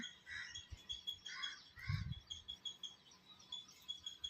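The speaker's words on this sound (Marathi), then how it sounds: "पक्ष्यांची किलबलाट असते सकाळ सकाळी" Faint bird chirps and tweets ring out intermittently against a quiet early morning background, with a soft low thump midway.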